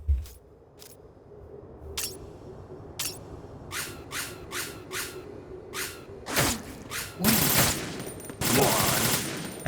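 Video game gunfire from Metal Gear Solid 2: Sons of Liberty, scattered single shots cracking at intervals, then building into dense bursts and sustained volleys near the end.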